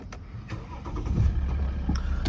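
A 2019 Maserati Ghibli with a VM Motori 3.0 diesel engine and 97,000 km cranking over and catching, settling into a low, quiet, steady rumbling idle with a few faint clicks.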